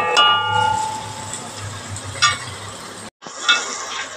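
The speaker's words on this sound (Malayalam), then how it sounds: "സവോള നന്നായി വഴന്ന് വന്നിട്ടുണ്ട്." Onions, tomatoes and garlic sauté in a pan for a fish curry, giving a continuous close sizzle with a few stirring scrapes and a brief break near the end.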